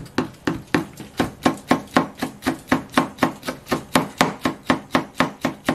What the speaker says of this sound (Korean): 이 목이버섯 채를 썰어 주겠습니다